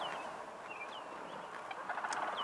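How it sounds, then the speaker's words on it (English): Several short, high squawking calls of a sandhill crane ring out at a distance over a steady outdoor background hiss, in Yellowstone. "There's a sandhill crane over there too, squawking."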